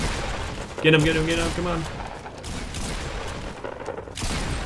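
Fortnite Battle Royale gunfire rattles in quick, dense bursts through a busy match, the shots close and loud and running almost throughout, with a voice speaking briefly over the firing.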